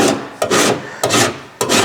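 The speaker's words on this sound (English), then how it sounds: "all I do with the rasp is I knock the high spots off" A hand rasp scrapes across the high spots of a rusted car fender in three long rhythmic strokes, each a loud rough rasping pass with brief pauses between, close up and with no talk.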